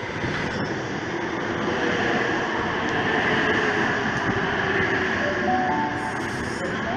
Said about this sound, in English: We've got an 8-car Oscar arriving on the platform number 1 for a Central Sydney Terminal service.